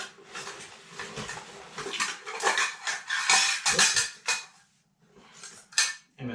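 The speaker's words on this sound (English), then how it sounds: "MSR titanium knife and fork." Titanium MSR knife and fork clink and scrape against cookware in a series of light, irregular metallic taps at close range, with short pauses between handling sounds and no talk.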